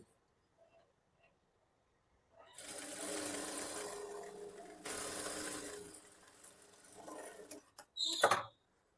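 A sewing machine stitches a blouse front part with a quarter-inch margin, giving two close, steady bursts of whirring after a quiet start, then a short sharp rattle at the end.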